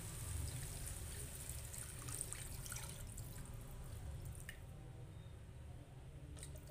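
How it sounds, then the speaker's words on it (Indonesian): Water is poured into a pot while chicken curry is being cooked, a faint steady splashing and trickling close by with small clinks over a low background hum. "Lalu kita masukkan airnya."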